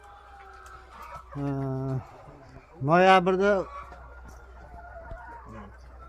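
Chickens at a poultry farm cluck in short bursts and one rooster gives a loud, close crow, while someone talks quietly in the background.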